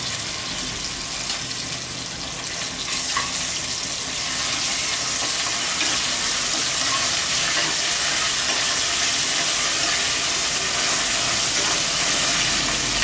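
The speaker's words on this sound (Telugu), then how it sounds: "బాగా వేగిన తర్వాత అల్లం వెల్లుల్లి పేస్ట్" Ginger garlic paste sizzling in a hot pan during biryani cooking, a steady bright frying hiss that grows louder and holds continuously, close and alone without talk.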